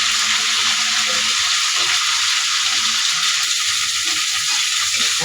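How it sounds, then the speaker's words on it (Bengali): Spice paste frying in hot oil, a steady, loud broadband sizzle that holds continuously throughout with faint stirring underneath. "তাই তেলের উপরে এই মশলাটা বেশ ভালো করে অনেকক্ষণ ভেজে নিতে হবে।"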